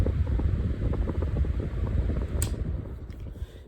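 A Lasco oscillating fan running on high, a steady, fairly loud whooshing airflow with a low fluttering rumble, close by, with a brief click or knock partway through.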